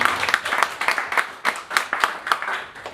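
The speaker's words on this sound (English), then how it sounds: "can we do Angela's round of applause" Wedding guests clap for Angela during the speeches, a moderate round of applause in which individual sharp claps stand out in a quick, uneven rhythm.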